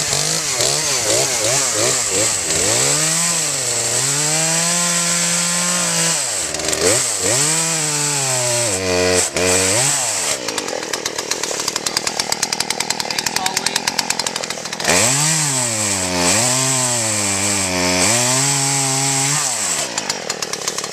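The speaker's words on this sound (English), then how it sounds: "So fire up the chainsaw and I'll show you." A chainsaw roars continuously, revving up and down repeatedly as it bites into wood in a woodlot, loud and close throughout.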